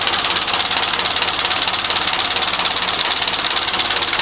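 A Model A Ford pickup engine runs at a steady, loud idle, its rapid even chugging filling the whole stretch without pause or talk.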